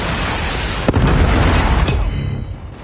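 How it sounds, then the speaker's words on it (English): Predator missile blast in Call of Duty, a loud sustained explosive roar with two sharp impacts near the start and middle, fading toward the end. "Predator missile inbound."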